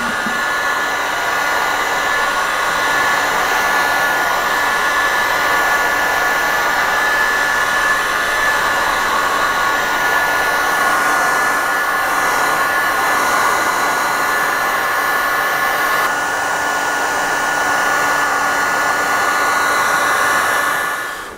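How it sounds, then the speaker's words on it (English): A heat gun blows a steady, loud, continuous whoosh with no breaks, drying wet wood on a 27 ft Nauticus cruiser boat under restoration. "Heat gun. Soon gets rid of that."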